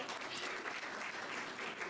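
An audience applauds at the opening of a 2019 event, a steady wash of clapping hands filling the whole stretch without any talk over it.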